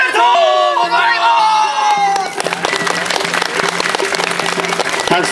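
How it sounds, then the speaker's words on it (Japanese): A large crowd at a New Year rice-pounding celebration in Tokyo International Forum breaks into loud applause and cheers, ringing out after a sung festive phrase fades, then continuing as a busy, close clatter of clapping. "たくさんの拍手誠にありがとうございます。"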